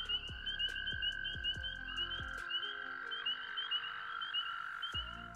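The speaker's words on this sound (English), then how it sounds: "we've got spring peepers and we've got American toads still at the breeding ground" Spring peepers and American toads call at a night breeding pond: a steady high trill runs throughout, with repeated sharp peeps and a series of low pulsing croaks, all fairly faint and unvoiced by people.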